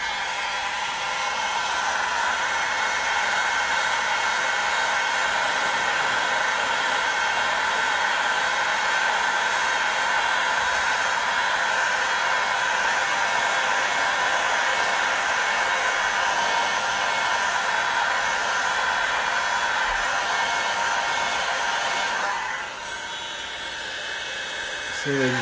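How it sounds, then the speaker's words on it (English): A heat gun blows hot air over plastic trim in a steady, loud, close whooshing roar that runs unbroken for over twenty seconds before cutting off near the end. "So I've just got my heat gun here, and I'm going to try and hit those spots real quick"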